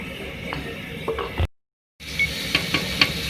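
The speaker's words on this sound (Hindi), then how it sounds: "इसको मिक्स करेंगे और इसको थोड़ा कुक करेंगे" A blended masala of spinach, tomato, onion, ginger and garlic is stirred and cooked in a pan, giving a soft steady sizzle with spoon scrapes and light taps, briefly interrupted by a moment of silence.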